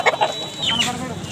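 A rooster at a roadside country-chicken market clucks in a few quick, close calls followed by a higher drawn-out note, with faint market bustle behind.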